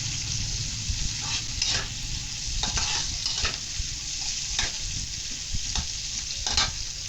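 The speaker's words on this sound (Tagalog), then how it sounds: "Lagyan natin ng sibuyas na pa-slice din. Bilog-bilog pa siya. Yan. Gigisa lang po natin." Sliced onion rings sautéing in a little oil in a pan, a steady loud sizzle with repeated scraping stirs of a utensil through the fry.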